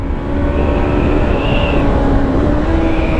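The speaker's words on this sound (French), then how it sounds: "On sent que la moto se libère un peu plus à partir de 7000 tours." Yamaha R3 motorcycle engine pulling above 7000 rpm, a loud, steady high-revving drone heard from the rider's position with wind noise, the pitch rising and dipping slightly.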